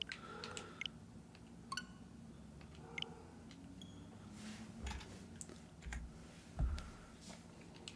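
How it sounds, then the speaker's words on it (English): Quiet, scattered clicks of computer keyboard keys being pressed during a game stream, irregular taps with a few low thumps over faint background hum. "I'm pretty sure I'm hitting a hotkey on my keyboard for the stream to stop."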